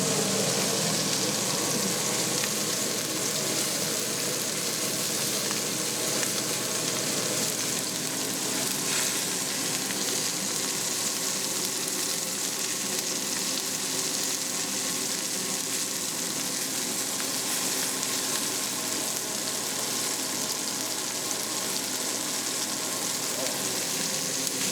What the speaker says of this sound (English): Jen, you want to catch some sizzle in there? Show them how they smoke?